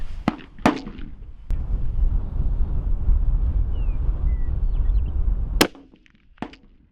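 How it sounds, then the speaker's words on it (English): A rifle fitted with a Leupold scope fires a single loud shot in the field; a sharp crack rings out and dies back into steady wind noise, with a few nearby clicks and knocks before and after it. "Okay, let's make the shot. Shooter's ready."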